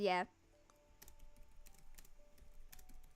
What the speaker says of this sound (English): You can hear me typing out the lyrics rapidly.